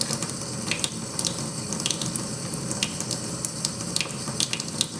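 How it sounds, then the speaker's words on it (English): A makeup brush is rinsed under a running tap, a steady broadband rush of water with small clicks and splashes as the bristles are worked and shaped, close and continuous with no talking. "And just kind of helps to rinse it out as well and shape it"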